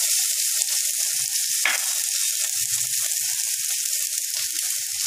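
Garlic frying in leftover oil in a pan while making a chilli soyabean gravy gives a steady, close hiss of sizzling throughout, with a few soft stirring knocks and one brief scrape.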